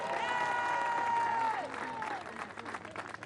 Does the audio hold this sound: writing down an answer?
no